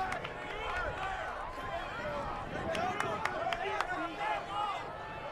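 An arena crowd at a live MMA fight in Las Vegas, a steady roar with scattered shouts and claps, mixed under an excited commentator's voice.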